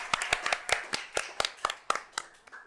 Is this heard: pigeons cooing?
no